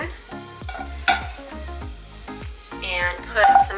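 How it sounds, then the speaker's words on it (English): Butter and ground meat sizzle and crackle in a hot frying pan, with stirring scrapes and the meat being broken up, steady and close, under light background talk. "I'm going to put a pat of butter in that pan"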